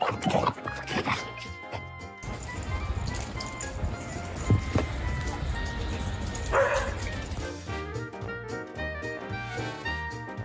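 Bernese mountain dogs out in the snow, several short barks and yips scattered among shuffling and movement, fairly close, with a little background voice.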